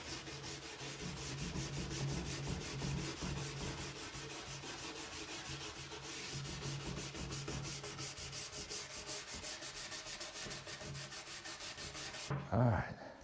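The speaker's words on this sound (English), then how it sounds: "let me get a wire brush. I'll scrub down in these cracks." A wire brush scrubs the cracks of an old oak refectory table in rapid, steady back-and-forth strokes. The scratchy rasping is close and continuous, ending with a brief knock.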